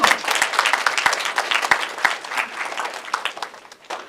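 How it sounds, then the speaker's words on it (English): An audience at a school panel on homelessness claps for a few seconds, dense and lively at first, then thinning out as it fades. "please give a round of applause for Benita Campbell."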